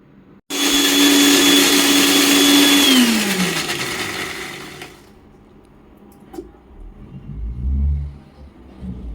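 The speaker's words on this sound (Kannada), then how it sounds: "ಸ್ವಲ್ಪ ನೆನೆಸಿಟ್ಟಿದ್ದೆ ಅದನ್ನು ರುಬ್ಬಕ್ಕೆ ಹಾಕ್ತೀನಿ" A mixer grinder grinding soaked ingredients starts abruptly with a loud, high whine, runs for several seconds, then winds down, its pitch dropping before it stops.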